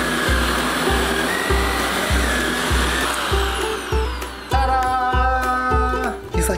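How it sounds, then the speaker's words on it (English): A household vacuum cleaner hums steadily while sucking up shed corgi fur, its pitch dipping and shifting in a regular pulsing rhythm as the nozzle moves, then whining higher near the end, loud and close with no talk. "Time to vacuum"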